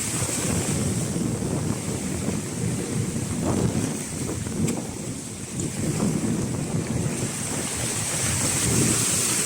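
Strong waves and wind at Manila Bay, a continuous roar of surf crashing under heavy wind buffeting the microphone, loud and unbroken with no voices.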